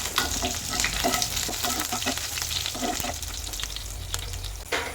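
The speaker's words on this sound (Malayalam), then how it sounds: "വെളുത്തുള്ളിയും ഇഞ്ചിയും കൂടി നമുക്കതൊന്ന് നന്നായിട്ട് മൂപ്പിച്ച് കൊടുക്കാം" Garlic and ginger sauté in a hot pan, a loud, dense sizzle with frequent quick scrapes and stirring clatter, close up and continuous, with no one talking.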